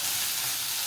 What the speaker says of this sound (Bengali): একটু টমেটো কুচি দিচ্ছি